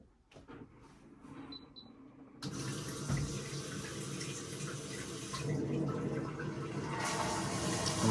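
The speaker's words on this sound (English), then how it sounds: "it auto flushes" A HOROW HR T20Y smart toilet flushes on its own. After a few quiet clicks, a sudden loud rush of water begins and keeps gushing, swelling slightly as it goes.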